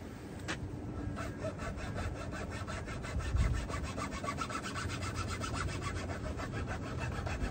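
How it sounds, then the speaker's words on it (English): A chainsaw file cuts a groove in an Osage orange self bow. The steady, close rasping strokes repeat in an even rhythm for the whole stretch, with no talk. "Here's the chainsaw file. It's a little thinner, a little smoother, okay?"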